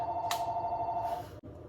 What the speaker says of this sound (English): ignore the phone ringing in the background